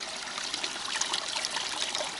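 Cold drinking water trickles steadily from a spring near a sequoia grove in the Crimean mountains, a soft continuous splashing heard close up with no voices.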